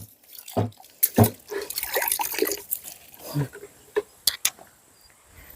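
Water is splashed and sprinkled by hand onto dusty ground at a cattle shed, giving scattered soft patters and drips, close and fairly faint, amid light handling noises.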